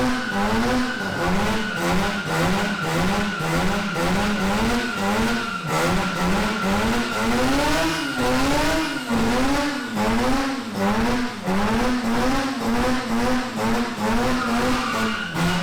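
Rotary-engined 13B peripheral port AE86 car skidding, its engine revving in a steady high-pitched wail that rises and falls rhythmically, loud and close throughout with continuous tire noise.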